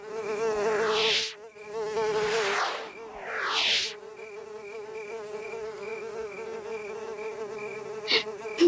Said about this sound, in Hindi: मच्छर आ गया।